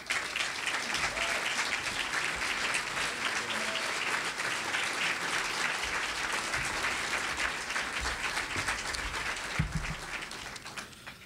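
Audience at the 2013 MPAC Media Awards applauding an award acceptance, dense continuous clapping filling the room at moderate level, a few louder claps near the end, with no speech.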